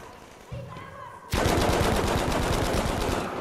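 Rapid automatic gunfire in the Battlefield V multiplayer game erupts loudly after a few quieter moments, a dense rattling burst of shots that keeps going to the end.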